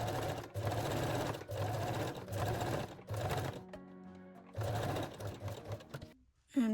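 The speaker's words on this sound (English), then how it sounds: "I am going to sew it on the machine" Domestic sewing machine stitching garter belt straps, running in several rapid bursts with short pauses between, close and loud, ending with a brief mechanical clatter.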